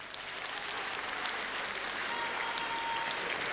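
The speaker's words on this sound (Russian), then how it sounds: "ваши аплодисменты." A studio audience applauds continuously, a dense, steady wash of clapping that holds at an even level throughout.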